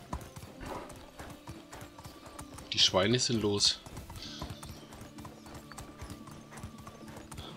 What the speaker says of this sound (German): Warum reitest du eigentlich hier so durch das Dickicht, Mensch?